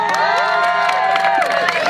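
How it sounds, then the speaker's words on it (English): Rally crowd outdoors cheering, whooping and shouting loudly and continuously, with some clapping and excited voices layered throughout. "let's give a big round of applause for Sharon,"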